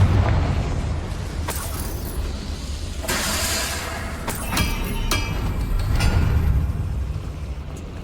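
Confringo blasting spell explosions in Hogwarts Legacy, a loud rumbling blast followed by several sharp bursts over a heavy low roar, close and sustained with no speech.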